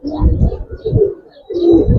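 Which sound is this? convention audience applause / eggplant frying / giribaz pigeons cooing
giribaz pigeons cooing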